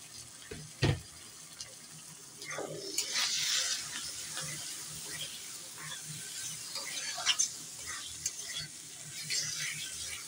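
Tomatoes dropped into a pan of frying spices, a soft sizzle with stirring scrapes and a few knocks. Water also trickles, and it all stays fairly quiet and close.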